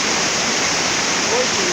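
Cachoeira do Orfeiro, a waterfall pouring over a tall rock wall in Iramaia, Bahia, makes a loud, steady, close roar of rushing water with no break.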